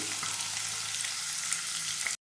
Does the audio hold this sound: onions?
yes